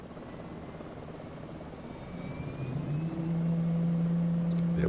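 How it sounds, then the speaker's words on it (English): Helicopter engine starting up in Microsoft Flight Simulator 2024, a low rising whine and rumble that builds steadily into a steady drone, with a faint high tone sweeping across the start. "Engine startups sounded a bit low there in my headphones."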